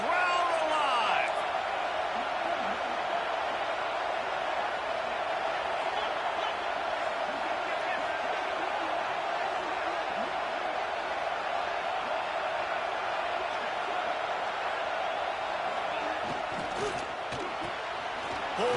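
A stadium crowd at a Clemson versus Florida State college football game roars steadily on a third-down red zone play, a dense, sustained wall of cheering with a few whistles near the start.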